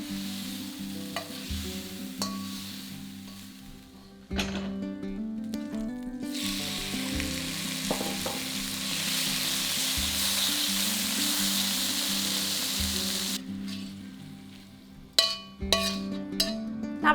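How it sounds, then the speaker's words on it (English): Beef strips frying in a wok over high heat, a steady loud sizzle with scraping stir strokes and clinks of a spatula against the pan, broken by short pauses between tosses. "Heat that over a high heat and then add half the beef into the wok"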